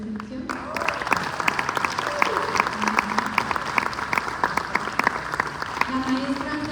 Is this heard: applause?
yes